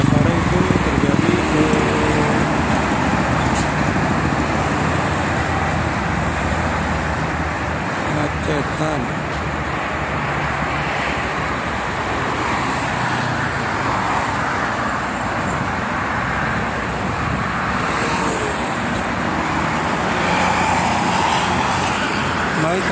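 Busy but free-flowing morning traffic on the Jakarta-Cikampek toll road, a steady loud roar of cars, buses and trucks passing close and continuously for the whole stretch.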